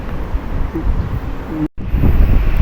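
Steady, loud wind during rain buffeting the microphone with low rumbling gusts, cut by a brief moment of near silence before the blustery roar returns.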